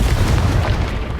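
A Confringo blasting spell explodes in Hogwarts Legacy, a single deep, loud boom with a heavy low rumble that holds steady across the whole moment, close and full, with no voice over it.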